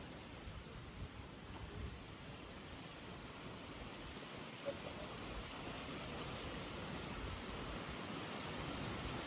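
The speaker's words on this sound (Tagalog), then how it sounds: "Grabe ang lakas ng ulan, oh." Steady, dense broadband hiss of heavy rain pouring continuously on Boracay Island, Philippines, loud and even throughout with no voices.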